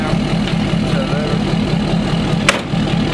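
A Ford F250 Platinum pickup engine idles up close, a steady low rumble that holds even and unbroken with no talk over it.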